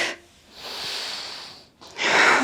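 A person exhales audibly during Chandra Namaskar yoga practice, a soft close breathy outbreath followed by a brief pause and a stronger, louder rushing exhale near the end.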